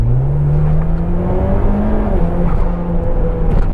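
A car accelerates hard in auto mode with sport clutch pressures, its engine drone rising steadily and loud from inside the cabin, with no voices over it.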